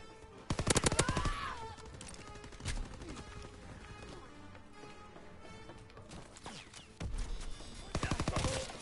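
Light machine gun fire in a World War II shooter game, loud rapid bursts at the start and again near the end, with someone talking in between.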